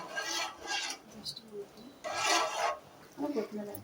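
A spoon scrapes steadily through thick gram flour chutney in a pan, making repeated close rasping strokes in bursts, with some speech running through it.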